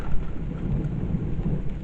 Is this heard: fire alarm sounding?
no